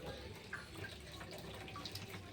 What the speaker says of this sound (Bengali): আর এই দেখুন পাশে কি সুন্দর জলটা নামছে